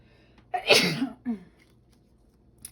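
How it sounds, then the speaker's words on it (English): A single loud sneeze up close, with a sharp burst and then a softer trailing breath, surrounded by quiet. "I have to sneeze. Hold on."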